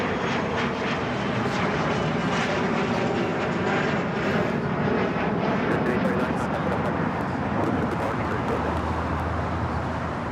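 An Airbus A380 arriving on the south side at Los Angeles International Airport, its engines a steady, loud, broadband roar that holds throughout with no pause.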